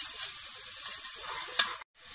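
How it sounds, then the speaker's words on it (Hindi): Chopped green chillies and spices sizzle and fry in oil inside a pressure cooker for pilaf, a steady close hiss with a few louder crackles and stirring scrapes, then a sudden brief cut to near silence. "इन सबको बहुत अच्छी तरीके से 1 से 2 मिनट तक फ्राई कर लेंगे।"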